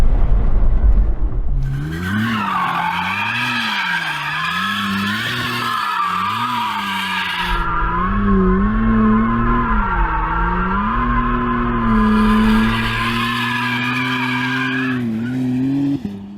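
A McLaren Artura hybrid supercar performs a rolling burnout, its tyres squealing loudly and continuously with wavering pitch over a droning, revving engine, up close and sustained for many seconds.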